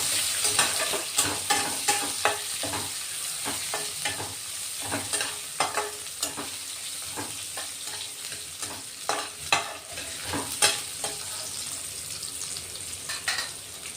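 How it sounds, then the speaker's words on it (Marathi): Chopped onion sautéing in a pan with black peppercorns, cloves and a piece of cinnamon for a spicy home-style chicken dish: a soft steady sizzle under repeated scraping spatula strokes at an irregular pace, fairly close. "कांदा अर्धा कांदा कट करून घेतलेला, परतून घेऊ आता।"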